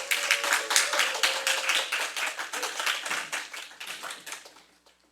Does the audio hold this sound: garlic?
no